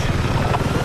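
Helicopter flying in the video game Battlefield 6, a loud, close, rhythmic rotor chop with steady pulses throughout.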